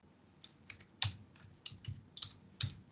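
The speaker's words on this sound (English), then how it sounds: "Then I type in the equation." Someone types on a computer keyboard: a handful of separate, irregular key clicks, fairly close and moderately loud, spread over about three seconds with short pauses between them.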